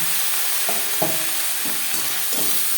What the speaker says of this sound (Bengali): পেঁয়াজ লালচে করে ভেজে নেওয়ার পর দিয়ে দেবো বেগুন।